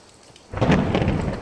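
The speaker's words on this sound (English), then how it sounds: "And thunder, apparently." Video game thunder rumbles in and swells into a loud, steady wash of heavy rain. No one speaks.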